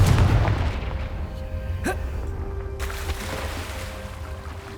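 A Confringo blasting spell goes off in Hogwarts Legacy, heard as a heavy boom at the start followed by a sharp crack and another burst, with a fading rumble and a ringing tail.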